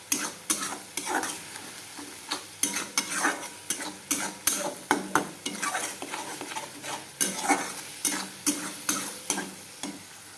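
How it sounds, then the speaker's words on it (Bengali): Onion-based spice paste for fish curry fries in oil while a spoon stirs it in a steady, repeated rhythm, the scraping strokes clear and close over a constant low sizzle. "ভালো করে কষাবো এখন মশলাটাকে, পেঁয়াজের কাঁচা গন্ধটা যেন না থাকে।"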